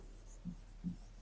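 A pen scratches on paper during a maths lesson, making two short, soft strokes over a quiet room.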